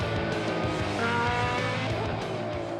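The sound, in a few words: Ferrari race cars at Mugello circuit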